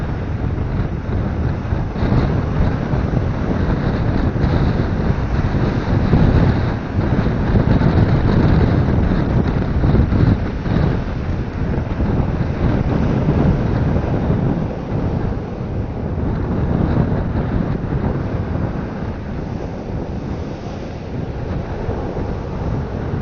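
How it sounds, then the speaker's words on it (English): Wind gusts across a Suffolk shingle beach at Pakefield while waves wash ashore, a continuous roaring rush with buffeting on the microphone that swells and eases over the whole stretch. "Wind is starting to pick up again."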